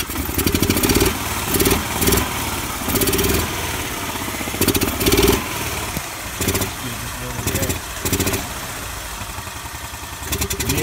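A gas golf cart engine runs with its fuel pump and governor bypassed, a close, loud mechanical idle with a rapid pulsing beat and repeated surges in revving, while someone talks intermittently over it.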